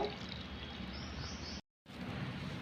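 Hot water poured from a cup into rice flour while making murukulu dough, a close, steady splashing pour that breaks off briefly before resuming.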